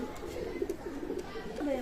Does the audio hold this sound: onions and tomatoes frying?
no